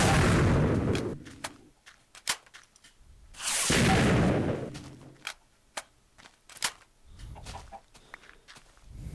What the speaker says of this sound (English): this gun is very powerful. It is like shooting a TNT